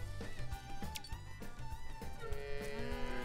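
A red space cow moos in the game Cowmets, set among herds of space cows, with several drawn-out lowing calls close by over a busy layer of game music.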